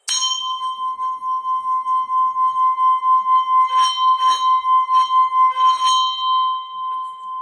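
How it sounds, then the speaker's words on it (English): Om singing bowl struck once, then its rim rubbed continuously, giving a sustained, steady bright ringing tone that swells and shimmers with pulsing overtones throughout, no voices. "hitting the bell like this and continuously rubbing the rim"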